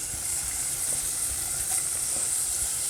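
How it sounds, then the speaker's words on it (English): Tomatoes and chilies for a simple arrabbiata sauce sizzle in hot oil, a steady close frying hiss with faint stirring scrapes underneath and no speech. "So we're just going to add the tomatoes and chilies in now. So I'll just mix it around."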